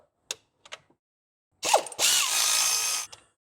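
A ratchet works bracket bolts off the cylinder head of a Nissan X-Trail's QR25 engine: a few quick, close clicks, then a louder, steady ratcheting burst of about a second and a half that ends with a short tail.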